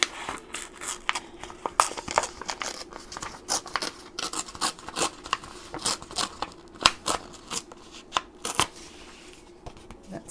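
Paper torn by hand to make journal tabs, a steady run of short crisp rips and rustles close up, repeating in an uneven rhythm with no talking.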